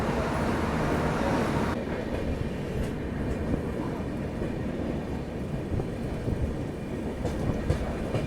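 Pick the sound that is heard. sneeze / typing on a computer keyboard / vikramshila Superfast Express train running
vikramshila Superfast Express train running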